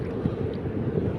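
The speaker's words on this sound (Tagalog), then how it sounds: "La, lumalakas yung alon." Ocean waves building on a beach at Ilog Malino, Bolinao, Pangasinan make a dense, loud, low roar mixed with wind buffeting, steady and close, with no talking.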